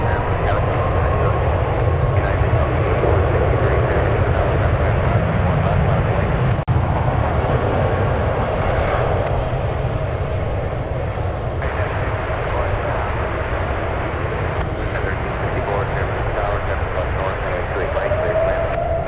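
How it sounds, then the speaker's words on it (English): A jet engine at San Francisco airport rumbles steadily and grows into a rising whine toward the end, fairly distant, with people talking over it. "You hear the engine spool up?"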